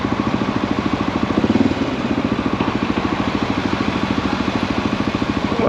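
Honda XR650L single-cylinder motorcycle riding through Brooklyn streets, its engine thumping in a steady, rapid pulse close to the mic, with a brief swell in loudness partway through and no talking.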